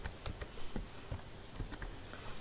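Keys clatter on a computer keyboard as an HTML body tag is typed, a quiet run of irregular clicks and taps spread across a few seconds with no voice.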